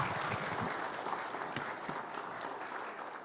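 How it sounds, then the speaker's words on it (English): An audience at a Christmas Eve candlelight church service claps for the storytellers, a fairly quiet, dense patter of applause that tapers slightly over a few seconds. "Let's give a round of applause for our storytellers."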